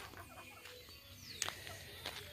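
Chickens on a small farm cluck softly at a distance over a steady outdoor hiss, with a few sharper clucks and short calls now and then.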